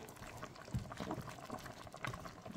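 Gombo (okra) sauce boiling in a pot, a faint, steady bubbling and gurgling with small irregular pops, heard close and quiet without any talk.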